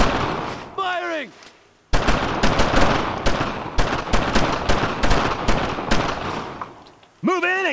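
Sustained gunfire in the World War II shooter Brothers in Arms: Road to Hill 30, with loud repeated bursts of rapid shots over several seconds, and falling whistle-like sounds at the start and end.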